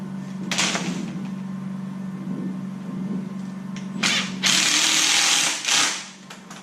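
A power drill fastens screws into a stone crab trap cage, giving short whirring bursts, one brief and a longer one a few seconds later, over a steady low hum nearby. No one talks.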